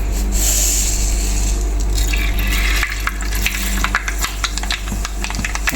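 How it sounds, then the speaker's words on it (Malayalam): Mustard seeds crackle and sputter in hot oil in a heated pan for beetroot lemon pickle, a loud, dense sizzle with sharp popping bursts growing busier toward the end. "നമുക്കിപ്പോൾ ചട്ടി ചൂടായി വന്നിട്ടുണ്ട് എണ്ണയും ചൂടായി വന്നിട്ടുണ്ട് അപ്പോൾ നമുക്ക് അതിലേക്ക് ആവശ്യത്തിന് കടുക് ഇടാം"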